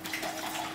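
Vodka pours from a bottle into a glass for a Cosmopolitan cocktail, a short steady liquid stream, close and moderately quiet.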